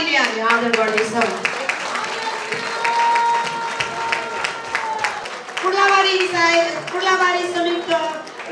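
Applause from an audience at a Christian gathering in Morang, Nepal, honoring a pastor, with dense clapping that swells and continues under a speaking voice and some children's voices.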